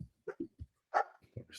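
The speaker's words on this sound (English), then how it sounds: "Now my dog is barking as well." A dog barks in a handful of short, sharp bursts spread over a second and a half, fairly close and clear indoors, with a brief human vocal sound in between.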